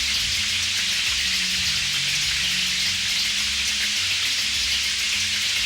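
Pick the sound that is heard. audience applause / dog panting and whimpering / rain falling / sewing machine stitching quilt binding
rain falling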